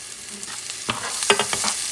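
Chopped garlic sizzles in a pan and is stirred briskly, a close crackle broken by a few quick scraping strokes of the spoon, with no talk over it.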